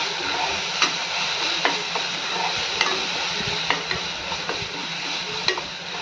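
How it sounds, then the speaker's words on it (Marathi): Ground masala paste frying with onions for chicken sukka, a steady close sizzle punctuated by regular sharp taps of a spatula against the pan roughly every second. "जो आपण मगाशी वाटण वाटून घेतले ते घालून घेऊयात तेही छान कांद्याबरोबर परतून घेऊयात"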